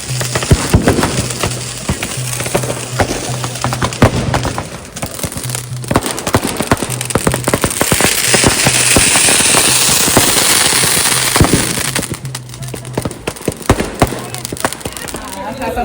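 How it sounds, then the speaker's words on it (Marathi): Firecrackers burst at night during a Ganesh immersion, with dense, rapid cracks and pops going on throughout, close and loud, and voices mixed in. "भरपूर फटाके फुटत होते"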